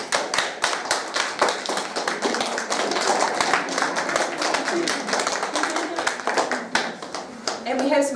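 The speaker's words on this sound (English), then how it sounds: "We'll just give a wee clap to our audience for coming along." A small audience at a student performance claps for several seconds, giving a quick, even patter of many hands nearby, with voices faintly underneath.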